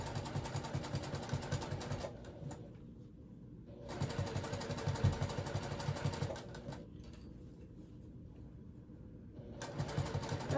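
A sewing machine stitches a purple water bag in bursts of steady, rapid mechanical chatter, pausing briefly between runs, fairly close and moderately loud with no talking.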